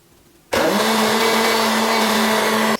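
An electric mixer switches on abruptly after a quiet moment and whirs steadily at a loud, constant pitch while mixing sifted flour into a plain vanilla milk cake batter, with no talking.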